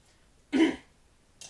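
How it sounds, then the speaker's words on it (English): A single short throat clearing, close and fairly loud, followed by quiet and a faint breathy sound. "Excuse me while I clear my throat"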